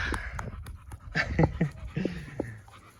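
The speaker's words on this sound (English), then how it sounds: "Look at these dogs." Dogs pant rapidly nearby, with quick breathy huffs and a soft whine or two mixed in.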